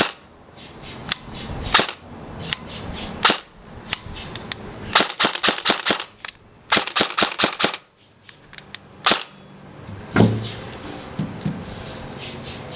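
An airsoft DMR rifle fires semi-automatic with the trigger held, giving sharp, loud, close shots in irregular single cracks and quick clustered bursts with short pauses, and there is no talk.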